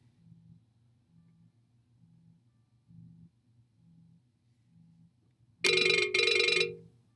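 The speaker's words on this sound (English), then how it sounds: "Now he's calling the meeting on my phone." A mobile phone rings with an incoming call during an online meeting: a faint repeating low ring pattern pulses through the first five seconds, then a much louder, bright chiming tone bursts in near the end.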